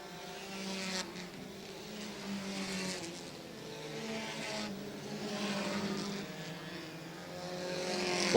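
Race cars lapping a speedway in a tight pack of two-car tandems, a continuous roaring engine drone that swells and fades as the cars pass, heard from a distance with no voices.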